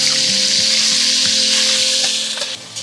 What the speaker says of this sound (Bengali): এবার এতে দিয়ে দিচ্ছি মটনটা।